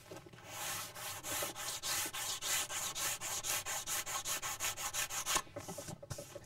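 Rhythmic hand block sanding on a louvered car body panel, about twenty regular rasping back-and-forth strokes in quick succession, close and fairly quiet, with no talking.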